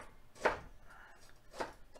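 A knife slices a bell pepper into strips on a cutting board, two distinct chopping strokes about a second apart, close and fairly quiet.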